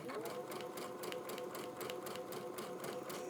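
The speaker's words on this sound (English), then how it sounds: "I'm going to go stitch all the way down here" A sewing machine runs a straight line of stitching across quilt fabric, a fast, even rhythmic clatter heard close and steady throughout.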